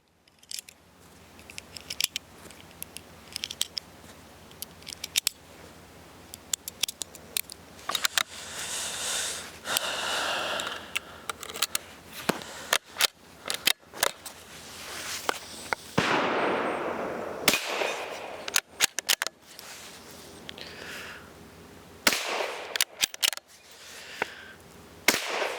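A Savage 93 .22 WMR bolt-action rifle with a Vortex scope fires a magazine outdoors, sharp loud cracks spaced irregularly with pauses, bolt clicks and handling noise between shots.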